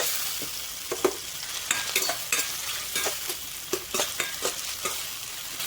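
Spoon stirring tomatoes and onions with salt in a sizzling pan, quiet scraping strokes repeating in an uneven rhythm over a steady frying hiss, close and fairly soft.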